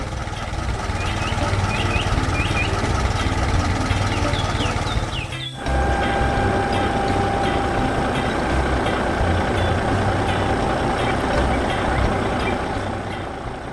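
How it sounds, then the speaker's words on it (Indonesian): A heavy tractor engine in an animated cartoon rumbles loudly and steadily throughout as it works a field, with high beeping tones chirping over it and a brief break partway through. "Traktor ungu bekerja keras di ladang"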